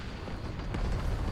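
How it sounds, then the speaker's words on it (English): Cannon fire in the Empire II mod battle game, a brief low rumbling boom rolling overhead, heard on its own. "Some cannon fire just coming overhead just now"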